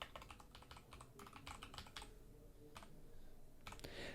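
Code is typed on a computer keyboard in quick bursts of crisp key clicks with short pauses, close and quiet, with no voice.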